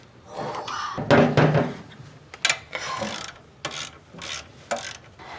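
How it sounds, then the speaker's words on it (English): Wrench ratcheting and metallic clunks come from loosening the alternator and compressor on a 1965 Ford Falcon, irregular bursts of clicks and knocks separated by short pauses, heard close. "we are going to loosen the alternator and compressor to see if we can rearrange the belts so that they don't squeak anymore"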